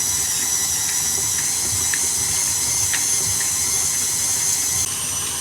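An electric mixer creams butter with dark muscovado sugar for a cherry chocolate Christmas cake, giving a continuous high motor whine with a steady, even hum and faint rhythmic ticks of the beaters, close by and with no talking.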